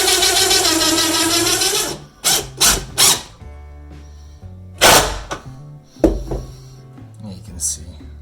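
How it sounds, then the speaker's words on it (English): An impact driver drives a screw into a wooden stair riser, whirring smoothly at first and then breaking into rapid ratcheting hammer bursts near the end, close and loud, with short pauses between runs. "this is an impact driver, and it doesn't actually have that impact hammer sound until the very end"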